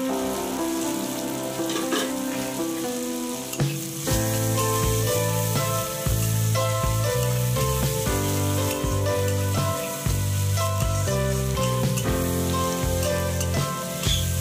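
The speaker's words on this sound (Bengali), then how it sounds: "বেশ কিছুক্ষণ নাড়াচাড়া করে ভালো করে ভেজে নিতে হবে।" Fish sizzles steadily in hot oil with chopped garlic and chilli, a continuous loud frying hiss with occasional stirring and clatter and no talking.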